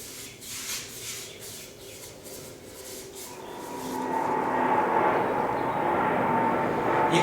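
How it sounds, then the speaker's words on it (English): A jet airplane on approach to Dallas-Fort Worth International Airport passes overhead as a steady, rising engine roar that swells over several seconds, preceded by faint rubbing sounds nearby. "There's the airplanes in the background."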